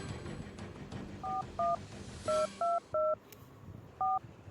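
A phone number is dialed on a keypad: seven short, clear tones in an uneven rhythm, the beeps standing out over a faint room hum.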